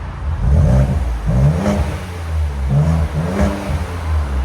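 A 2.7L EcoBoost Ford Edge ST with the muffler deleted, revved from idle in a few repeated blips, each rising and falling throaty and close, with no talking.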